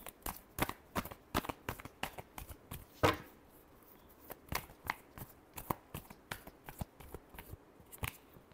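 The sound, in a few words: tarot cards being shuffled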